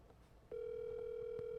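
A telephone ringback tone plays while a prize winner is called back, a single steady electronic tone that starts abruptly and holds without a break.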